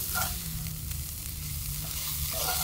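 Onions sizzling and caramelizing in a pan over an outdoor cooking fire, a steady close crackling hiss with no voices.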